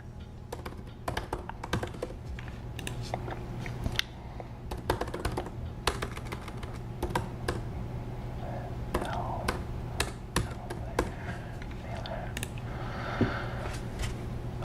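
Steady, quick clicking of keys on a computer keyboard as an email address and password are entered, close and fairly quiet, with brief pauses between bursts and faint speech in the background.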